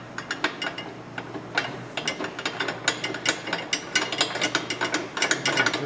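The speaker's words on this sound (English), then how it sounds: "Get the forward bolts in there and started." A hand ratchet driving in forward fender bolts on a motorcycle, quick repeated clicking strokes in a steady uneven rhythm, close and clear with no talking.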